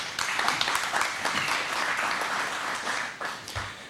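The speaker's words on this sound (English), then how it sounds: "I think they deserve another round of applause" A crowd applauds at a Second Amendment rally in a VFW post hall, dense steady clapping that fills the room and carries on without a break for several seconds.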